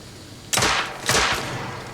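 Two sharp gunshots from The Order: 1886, a Victorian-era shooter, crack out about half a second apart, each with a long echoing tail that fills the space between.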